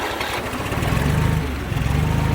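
A Ford 2000 tractor engine, started without choke after sitting for years, catches and settles into a rough, throbbing idle, loud and close with a steady low chug and no speech.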